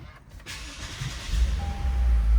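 A 2021 Lexus IS 350 F Sport with a 3.5-liter V6 starting up: a brief starter whir, then a low engine rumble swelling to a steady idle, close and fairly loud.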